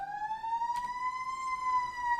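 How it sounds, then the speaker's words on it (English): An ambulance siren passes by outside a house, a steady, slowly rising and falling wail heard from moderate distance through the walls, with no talking over it. "There seems to be an ambulance or something coming by my house."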